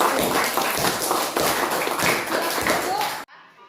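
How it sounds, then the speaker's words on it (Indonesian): Classroom group clapping for a student group after its presentation, a dense burst of many hands lasting about three seconds, fairly close and loud, then stopping abruptly into near silence. "Tepuk tangan untuk kelompok"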